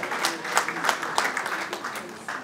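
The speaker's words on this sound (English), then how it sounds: "A round of applause for the ingenuity of women." An audience applauds at a talk, a dense, uneven patter of many hands clapping with a few sharper individual claps, sounding fairly close and steady for the whole stretch, with no voices over it.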